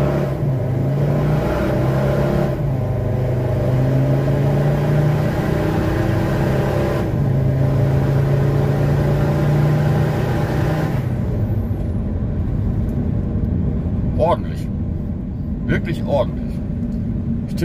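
A tuned VW T5 van with the BPC engine, all power-limiting measures and exhaust gas recirculation switched off and running about 200 hp, drives along a road. Steady engine and road noise fills most of the stretch, with a talking voice over it.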